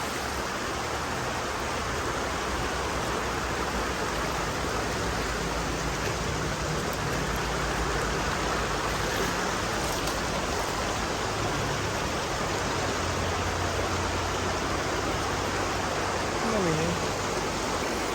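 Strong river current rushing loudly and continuously, a dense unbroken roar of flowing water heard up close for the whole stretch.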